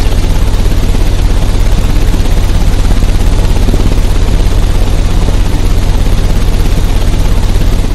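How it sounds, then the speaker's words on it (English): A machine engine in Sherlock Holmes: Crimes and Punishments, at Kew Gardens, runs with a loud, steady low rumble and a dense broadband roar that holds constant throughout, with no talk. "The engine has started."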